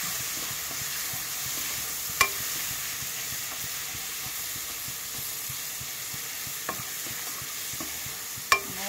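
Garlic frying in oil for home-made fried rice, a steady close sizzle with a few sharp clinks of the stirring spoon against the pan.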